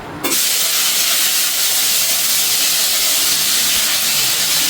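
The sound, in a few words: panch phoron spices and bay leaves sizzling in hot oil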